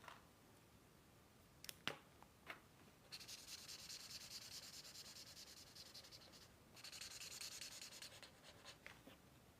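A marker pen scratches and rubs across paper in long steady strokes with a few sharp taps, quiet and close with no talking.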